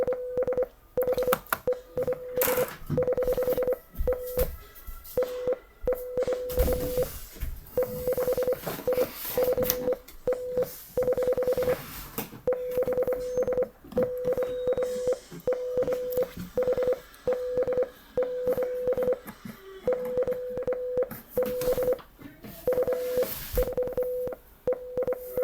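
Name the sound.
morse code beeps encoding a game release date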